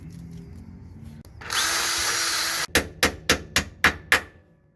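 A bolt is tapped in with a hammer during a rock slider install on a TJ Jeep Wrangler. A short power-tool whir comes first, then six sharp, evenly spaced metallic knocks, close and fairly loud, with no talking.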